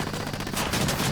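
Dense rapid gunfire from the video game Ghost Recon Wildlands, a continuous crackling volley of many overlapping shots at steady loudness with no pauses, no talking.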